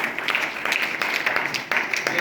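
A church congregation claps together in a brisk, fairly loud round of applause, with voices mixed in among the claps.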